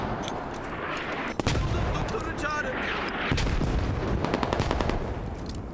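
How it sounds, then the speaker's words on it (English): Heavy gunfire and booming mortar impacts in the Squad military shooter make a dense, rumbling barrage with sharp single shots and rapid bursts, loud and close, while a player talks over it. "Sounds like we also have mortars that are hitting the point finally, too."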